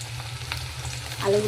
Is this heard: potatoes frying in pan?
yes